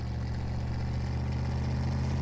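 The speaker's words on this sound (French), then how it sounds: "ça fait un bon bruit, on dirait un bruit de tracteur." In Garry's Mod, a vehicle engine drones steadily with a low, rough, tractor-like chug that holds at an even, moderate loudness throughout, with no talking.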